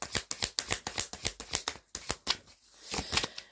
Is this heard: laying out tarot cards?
yes